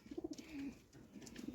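Tumbler pigeons for sale coo softly in short repeated bursts, a few birds murmuring close by with faint background noise and no speech.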